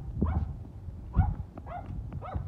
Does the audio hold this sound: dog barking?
yes